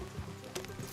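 Horses' hooves clopping in a few soft, uneven thuds, faint and close, alone without speech.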